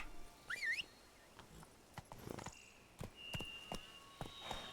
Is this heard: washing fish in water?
no